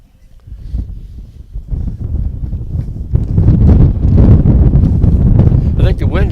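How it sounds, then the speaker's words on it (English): Wind buffets an outdoor microphone at a windy high school baseball game, a low rumbling roar that starts soft and gusty, then swells to a loud, steady blast over the final seconds. "I think the wind's starting to let up a little bit."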